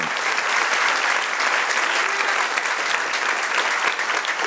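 Sustained applause from a church congregation honoring the Lord, a thick, steady crowd of clapping hands that keeps going for several seconds without letting up.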